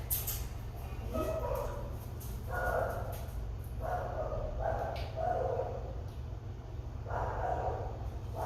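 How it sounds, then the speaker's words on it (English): Dogs bark and yip repeatedly in short bursts from kennels some distance away, over a steady low hum, with no speech. "There's dogs barking in the kennels"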